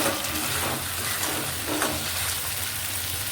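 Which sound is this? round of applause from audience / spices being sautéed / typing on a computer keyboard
spices being sautéed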